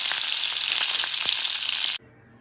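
Brinjal pieces cook in hot oil with salt and turmeric, a dense, bright, close sizzle with a few faint stir clicks that runs on steadily and then stops abruptly, leaving near silence.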